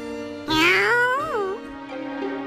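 A cat in the Sword Art Online Alicization Lycoris video game gives a loud, drawn-out meow with a rising then falling pitch, followed by a softer trailing mew, heard alone and close.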